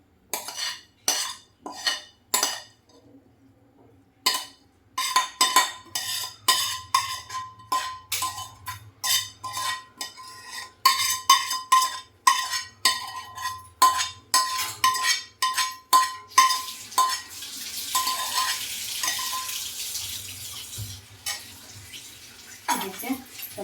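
Spoon clinks and scrapes against a bowl as tempering is stirred into masala paddu batter, in a quick, irregular series of taps, with a brief rush of running water near the end.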